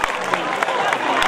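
A comedy show crowd keeps clapping in a dense, loud burst, with voices blending into the applause.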